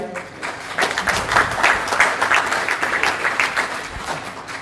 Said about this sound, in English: I'll bet you that's the most round of applause an umpire's ever got.